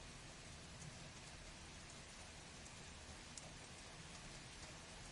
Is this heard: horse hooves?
no